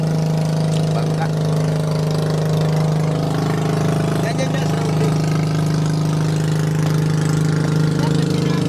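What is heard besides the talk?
boat engine running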